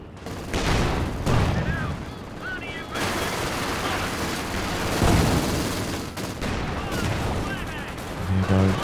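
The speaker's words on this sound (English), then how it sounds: "he's just throwing a gammon bomb" A Gammon bomb thrown and exploding in the Company of Heroes 2 war game, heard among near-continuous gunfire and booms while a commentator talks over the battle.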